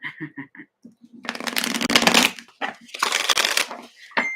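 A deck of cards is shuffled up close in two long riffling bursts, crisp and fluttering, after a few short taps, and a voice speaks briefly between them.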